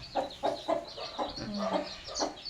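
Backyard hens and chicks cluck and peep in short, repeated bursts close by. The calls are soft but continuous, with no one speaking.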